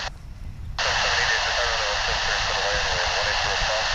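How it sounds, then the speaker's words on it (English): A small Cessna Super Cargomaster single-engine plane passing at DFW International Airport, its steady engine drone rising abruptly and then holding loud and constant, with a faint radio-like hiss underneath. "As you saw that little Cessna Super Cargo Master go through the shot there."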